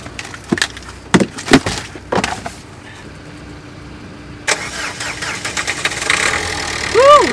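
Car that had failed to start, stranded in snow in Morocco, with its engine being cranked again: several sharp clicks and short thumps, then the motor catches and settles into a rough idle while voices talk nearby.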